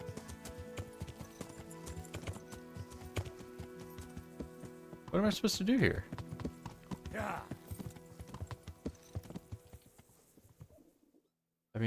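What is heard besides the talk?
horse hooves clip-clopping in a video game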